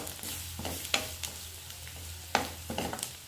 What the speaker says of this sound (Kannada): ಎಲ್ಲ ಫ್ರೈ ಮಾಡ್ಕೋಬೇಕು ರೀ